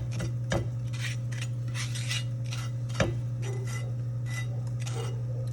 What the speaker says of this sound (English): I'm just gonna go ahead and wipe my pan down